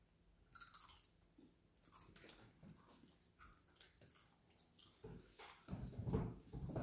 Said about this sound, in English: Hint, the bigger chips get the bigger crunch.